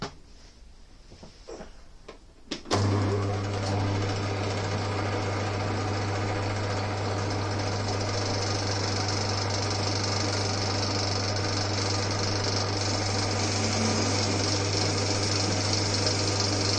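An old Winfield lathe starts up and turns a boss, taking a cut down toward 22 mm. After a quiet start with small handling noises, it runs at a steady loud hum with a constant low drone and busy machining noise, with no talk.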